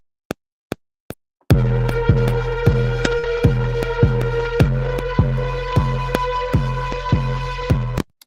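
A deep, thumping synth lead from the Native Instruments Cloud Supply library pulses in a steady rhythm, each hit a heavy low boom with a quick decay, preceded by a few sharp isolated clicks, loud and alone.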